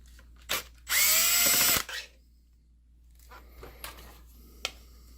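A power screwdriver backs a screw out of an Optoma HD70 projector, giving one loud, close whir lasting about a second, followed by a few faint clicks and taps of handling in an otherwise quiet room.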